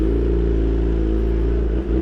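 A Kawasaki ZX-10R superbike of a little over 200 horsepower runs with a loud, steady, close engine drone that holds constant for two seconds with a brief dip near the end, no talking.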